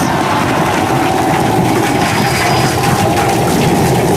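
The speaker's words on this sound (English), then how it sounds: "Booster Landing burn. Seeing 13 engines." A SpaceX Starship Super Heavy booster fires 13 rocket engines during its landing burn, making a loud, steady, crackling roar throughout.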